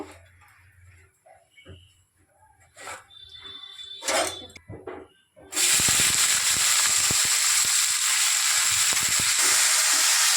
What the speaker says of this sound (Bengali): এই আলু ভাজা করছি